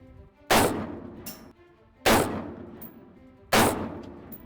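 Three loud rifle gunshots ring out at an outdoor shooting range, each a sharp crack with a long echoing tail, evenly spaced about a second and a half apart, no talking.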